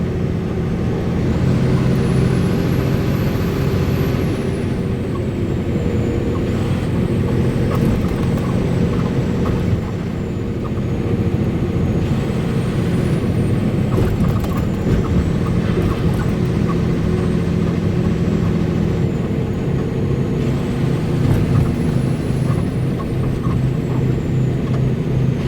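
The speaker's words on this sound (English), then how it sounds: "finally getting up through here with all this doggone DC traffic" Busy city traffic in Washington DC, a steady loud roar of cars, trucks and buses, with an overhead aircraft drone and high air-brake hisses rising and falling throughout, without talk.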